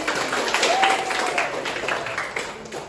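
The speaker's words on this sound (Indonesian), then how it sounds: "Tepuk tangan ya" A short round of applause from a small class, dense patter of clapping that stays fairly steady and close, with a faint voice under it.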